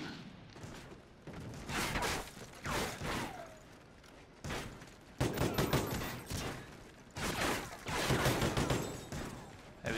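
Gunfire in the Call of Duty Ghosts video game, with repeated bursts of shots and impacts in uneven clusters, loud and close amid game noise.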